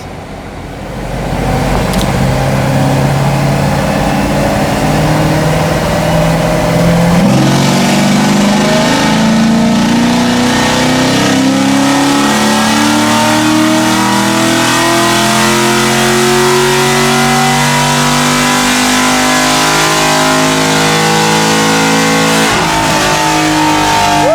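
A Chevrolet Camaro 1LE in stock base tune on a dyno, its engine roaring loud and close as it climbs steadily through the revs in one long pull, then drops off at the end.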